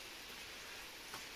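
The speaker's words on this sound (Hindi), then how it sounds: "भयंकर बारिश हो रही है आज" Heavy rain falls steadily as a dense, even hiss with no gaps, close and fairly loud, with a faint patter on surfaces and no voices.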